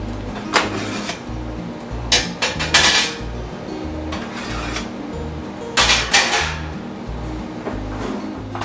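Metal covers lifted off sourdough sandwich bread pans in an oven, giving several loud clanks and scrapes of metal on metal close by, spaced through a steady low hum.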